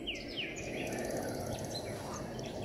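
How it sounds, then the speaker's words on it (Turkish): Birds call in the Enez and Kavak delta with faint, thin chirps and whistled notes over a constant rushing ambient background, distant and soft throughout. "Kuş sesleri, kurbağa sesleri."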